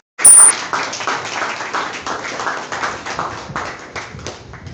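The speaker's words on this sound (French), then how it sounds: "vous puissiez accompagner le professeur avec des acclamations" An audience claps steadily after a sudden start, a dense and fairly loud patter of many hands that carries on with slight swells and no talking over it.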